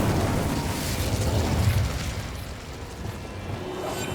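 An Incendio fire spell cast in Hogwarts Legacy, a sustained roaring whoosh of flame with a deep rumbling burst that swells and then eases off, loud and close with no voices over it.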